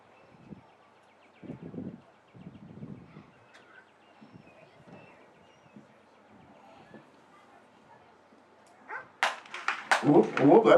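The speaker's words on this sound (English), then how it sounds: "that dog's going to be on him fast" A police K9 dog at a USPCA police dog exhibition carries out an apprehension exercise. A voice talks through the early part, then a burst of loud, rapid, close barking breaks out at the end.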